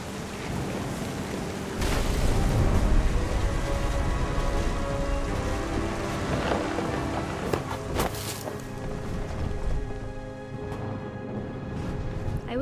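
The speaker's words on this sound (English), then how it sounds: "The thunder sounded much too close and full of angry power" Thunder and rain in the video game What Remains of Edith Finch, a steady loud wash of rain with low rumbling swells and a few sharp cracks, no talking.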